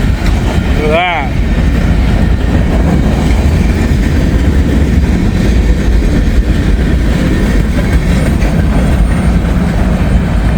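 A freight train carrying a new UP boxcar rolls past on a rainy day, a steady loud rumble of wheels with a short squeal early on.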